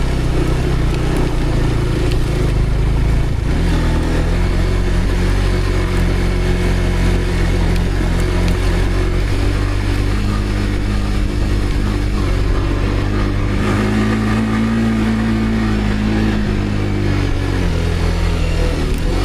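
A motorcycle engine runs loudly and close, rumbling steadily with occasional revs that lift the pitch before settling back to a throaty drone.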